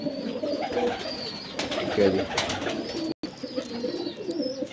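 Golden pigeons coo in a dense, continuous low burble, close and fairly loud, with a brief spoken remark partway through and a sudden short dropout near the end.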